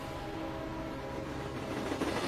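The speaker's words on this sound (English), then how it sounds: "Trains." A train rolling along railway tracks just feet away, a steady low rumble with rhythmic clatter of wheels growing slightly louder toward the end, with no voices.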